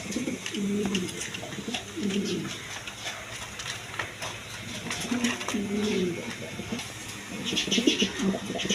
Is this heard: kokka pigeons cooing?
yes